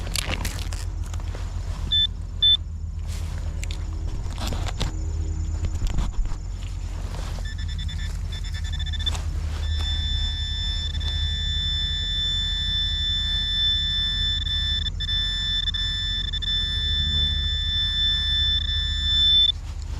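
A metal detector's steady electronic tone hums close by on a Civil War battlefield, shifting pitch now and then, over scuffing and crunching ground noise from digging up an old washer.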